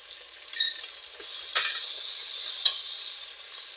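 Chopped green chilli and a spoonful of ginger hit hot oil in a pan with tomato for a broken-potato curry, giving a fairly faint, close sizzle with a few sharp crackles and stirring scrapes, no talk.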